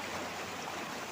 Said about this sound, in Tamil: ஆற்று தண்ணி.